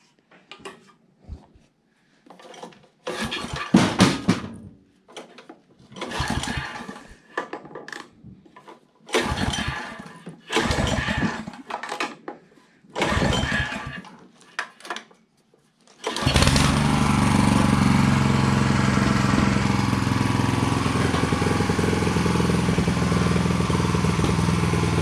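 A garden tiller with a new cable, its small engine started by repeated pull-cord yanks that give bursts of clattering, then catching and settling into a loud, steady running drone for the rest of the clip.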